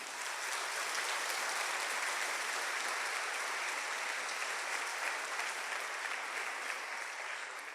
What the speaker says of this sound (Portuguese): Dá um aplauso ao Senhor por isso.